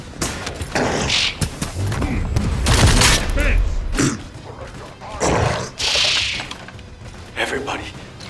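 Rapid bursts of gunfire and impacts from The First Descendant sci-fi shooter game crackle in irregular volleys, mixed with thuds and explosions, fairly loud and dense throughout.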